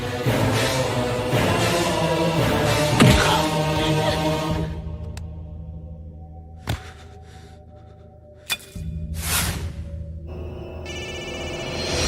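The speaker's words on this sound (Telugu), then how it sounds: "ఫోన్ ఎత్తడేట్రా" An unanswered telephone rings from a Telugu comedy scene aboard a train, a repeating electronic ring heard over a steady background of music and ambient noise, with sharp clicks near the end.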